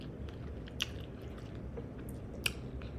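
Barbecue pork chop is eaten close to the microphone, with soft wet chewing and squishing under quiet conditions and two brief, sharper bites standing out.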